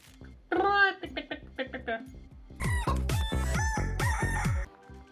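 Rooster crowing in the Standoff 2 video game, a clucking call followed by two loud, drawn-out crows in quick succession, close and clear with no talking over it.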